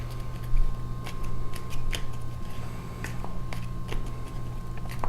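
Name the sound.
shuffling a deck of board game cards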